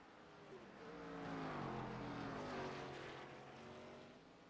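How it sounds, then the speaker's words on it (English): A race car engine in a sim racing game at Watkins Glen International, running low on fuel, drones and warbles through uneven rising and falling pitch sweeps, swelling in the middle and then fading, with no talk over it. "Rob Lodwick, you can hear that engine sputtering."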